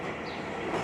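A New York subway 7 train riding on its way to Mets games, a steady loud rolling rumble and rattle from inside the moving car, with no pauses and no voices.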